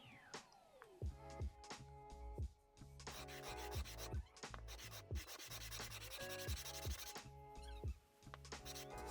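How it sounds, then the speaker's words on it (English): A hand rasp shapes very hard wood with repeated rough, scraping strokes in a steady back-and-forth rhythm. The rasping is close and gritty, with short pauses between bursts. "So with the rasp I managed to give it the shape I wanted."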